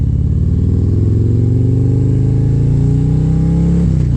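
Motorcycle engine revving up close, a loud throaty growl climbing steadily in pitch over a few seconds before dropping off sharply at the end.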